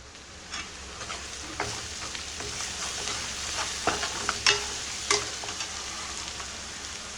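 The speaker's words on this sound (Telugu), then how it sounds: "ఇది వేగాలి కాసేపు" A paste of onion and tomato fries steadily in a pan with a low, continuous sizzle, broken by occasional sharp scrapes and taps of a spoon stirring it.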